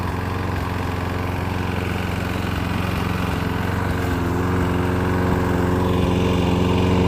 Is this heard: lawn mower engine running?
yes